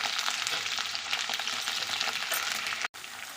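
Potatoes, green chillies and eggplant hiss in hot oil in a pan, giving a loud, steady, close sizzle. The sizzle cuts out for an instant near the end, then resumes.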